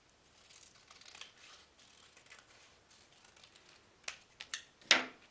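Scissors snip through a paper stencil border, soft quiet cutting at first, then a few sharper distinct snips and a final loud close-up cut.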